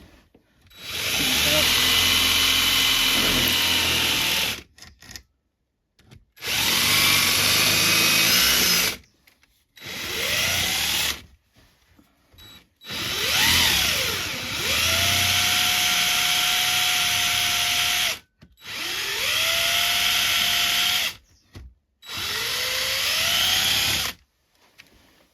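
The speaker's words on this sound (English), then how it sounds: "finish the corners off with a little drill bit." A small drill bit bores out the corners of a cutout during a boat repair. It comes in loud, close bursts of several seconds each with short pauses between, and the pitch shifts as the bit loads and frees up.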